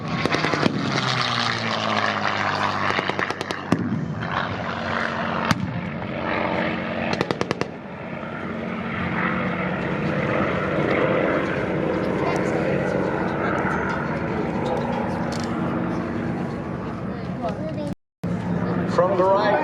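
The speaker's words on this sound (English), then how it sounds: "From the right are the Mustang." P-51 Mustang propeller warplane at an airshow, a loud continuous engine drone with a sustained roar that holds throughout, while an announcer talks over it on a public address system.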